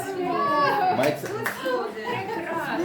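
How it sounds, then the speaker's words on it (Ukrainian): Applause rises on a Hutsul farm tour, with a few scattered claps mixed into lively chatter and children's voices close by. "Аплодисменти."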